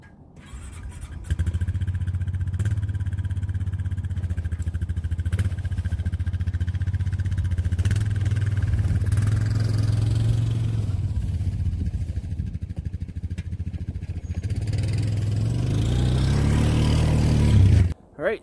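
A Honda 420 Rancher four-wheeler with a straight rear axle runs steadily close by, a low droning engine that holds a constant idle-like rumble before swelling louder near the end, with no talk.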